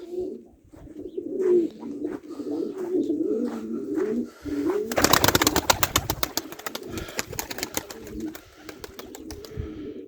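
Pigeons coo in low, throaty murmurs throughout, with a burst of rapid flapping or scuffling around the middle and occasional chirps nearby.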